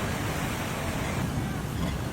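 Large ocean waves and high surf near Santa Cruz send up a steady, broad roar of crashing water and rushing wash, loud and continuous with no distinct breaks.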